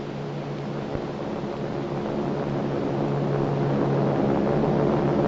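Aeroplanes droning overhead in an old wartime-scare film scene, a steady broad engine rumble with a low hum that slowly swells louder across the whole stretch, no voices.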